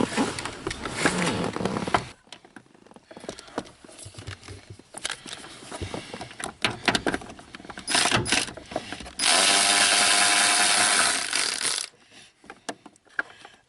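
Two 10 mm hood latch bolts are removed on a Honda Civic, rapid ratchet clicking in repeated bursts with metallic handling noises and a longer steady ratcheting run near the end.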